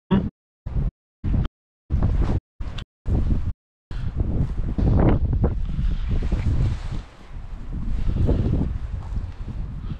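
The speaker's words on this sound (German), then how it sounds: "Es ist auch echt windig. Richtig windig." Strong gusts of wind buffet the microphone outdoors, first in short choppy bursts and then as a sustained, loud roaring rumble that rises and falls.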